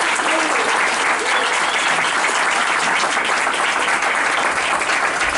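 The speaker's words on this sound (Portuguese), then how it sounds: "Então uma salva de palmas desde já a Eduardo Muniz do Mancha." Steady, dense applause from a live dub concert audience at Centro da Terra in São Paulo, loud and continuous throughout with no pause.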